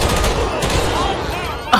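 Gunfire in the video game GTA V, a dense loud burst of rapid shots filling the short stretch, with a sharper crack near the end.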